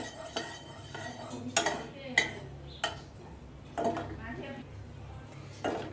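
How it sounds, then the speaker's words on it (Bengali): A utensil scrapes and clinks in a pan of melted ghee for carrot halwa, about eight sharp knocks and scrapes at uneven intervals, quiet and close, with someone speaking in between. "ঘিটা কিন্তু গলে গিয়েছে এখন আমি একটু নাড়িয়ে দেব"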